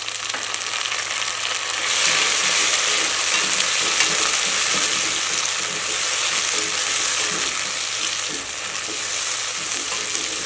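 Garlic and tomatoes fry in a pan, giving a loud, steady sizzle that carries through to the end, with the sound of stirring at moments and no voices.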